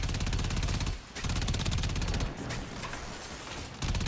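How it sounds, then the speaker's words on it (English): A giant minigun in Warframe firing in sustained, rapid streams, dense mechanical rattling bursts with one brief pause near the start and another near the end, loud and without talk. "This giant minigun does a pretty good job anyway."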